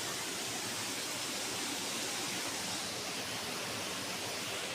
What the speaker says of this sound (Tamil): பார்த்தீங்களா அருவி ஓடுறது, அருவி ஓடுது